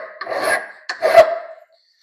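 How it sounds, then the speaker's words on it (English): Two forward strokes of a double cut file rasping across the cut end of metal conduit, each a short, close, gritty scrape with a brief pause between. "when you use a file, I like my hand on the outside, and it is a double cut file"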